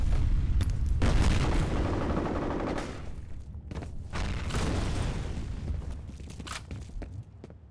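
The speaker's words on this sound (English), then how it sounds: "Fire in the hole! Grenade out! Grenade out!" Rapid bursts of automatic gunfire and booming grenade blasts in a Counter-Strike team deathmatch on the Docks map, loud and close, with short pauses between volleys and faint footsteps.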